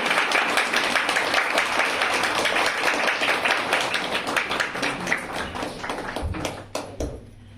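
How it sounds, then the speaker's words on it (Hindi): A church congregation on Bible Sunday claps to welcome a guest speaker, loud close applause with distinct individual claps that keeps up strongly, then thins and fades out with a few final claps near the end. "तालियों से उनका स्वागत करेंगे"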